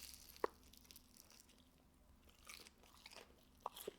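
Korean fried chicken being bitten and crunched, faint crisp bites and chewing at close range, one sharp crunch early and a couple more near the end over quiet background.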